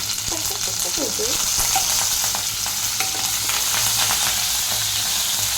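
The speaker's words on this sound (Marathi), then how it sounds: "आता मी कढीपत्ता पण ॲड करत आहे त्याला उडतं येतं" Curry leaves and cumin splutter and crackle in hot oil for a quick paneer bhurji, a dense, steady, close sizzle with sharp popping bursts throughout.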